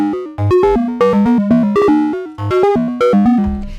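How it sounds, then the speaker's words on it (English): Bright analog synthesizer notes from an Arturia MiniBrute 2 step through a repeating sequence, bleeping and blooping in a steady rhythm with short gaps, loud and up close. "It's a modularish bleep and bloop to impress your friends."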